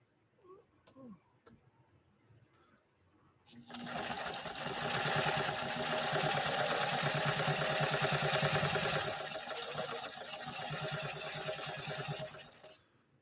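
A 1960 Pfaff 230 sewing machine stitches steadily for about nine seconds, a close, continuous rapid whirring rattle that starts abruptly after a few soft handling sounds and quiet talk.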